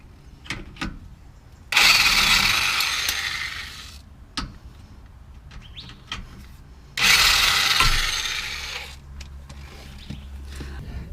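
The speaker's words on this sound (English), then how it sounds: "I'm just going to take them out the rest of the way with the impact here, just so we can get it done faster." An impact wrench backs out 15 mm bolts on a lifted truck, firing two loud, sustained whirring bursts of a few seconds each, separated by quieter clanks and handling noise.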